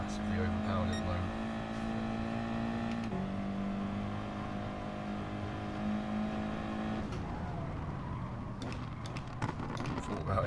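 A race car in GT Sport drones steadily at high revs, with a shift in pitch partway through before the engine note drops and fades. A voice runs over the engine sound.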